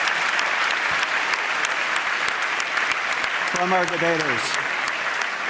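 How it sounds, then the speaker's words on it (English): A debate audience breaks into a big round of applause after a hard-fought contest, dense clapping throughout with a voice speaking briefly over it near the end. "Let's give a big round of applause for a terrific debate"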